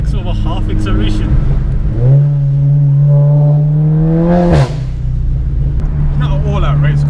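A Seat Leon Cupra tuned to 420bhp roars up through the revs under hard acceleration, a loud close engine rising in pitch before a sharp shift and drop, with people talking over it inside the car.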